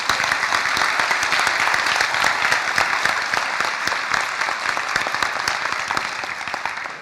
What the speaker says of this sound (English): Round of applause for this lady.